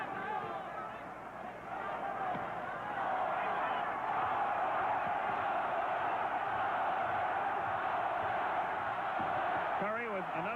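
A boxing crowd at Will Rogers Coliseum roars and chants for the hometown fighter Curry, a sustained dense wall of voices that builds after a couple of seconds and holds loud to the end.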